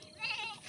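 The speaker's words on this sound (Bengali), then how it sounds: "ছাগলের ডাক শুনছে আর কিরকম করছে" A single short goat bleat, wavering and slightly nasal, fairly faint and heard alone, in the Sundarbans in the afternoon.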